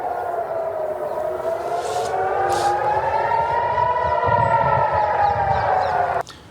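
Jerusalem's civil-defense air raid sirens howl continuously in layered, gently rising and falling tones, loud and steady until cutting off abruptly near the end; no speech.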